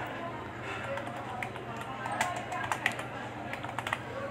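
Computer keyboard typing while a full name is entered into an online sign-up form, keystrokes light and irregular, fairly close, clustering into quicker bursts toward the end over a steady room hiss.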